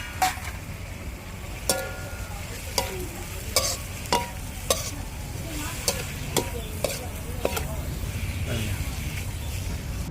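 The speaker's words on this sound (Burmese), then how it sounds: "မိကိုအရင်ထည့်ပြီးကြော်မယ်နော်" Ingredients frying in a pan while being stirred, with bamboo shoots and mock meat on the menu: a steady close sizzle runs throughout, broken by repeated sharp scraping clicks of a utensil against the pan at irregular intervals.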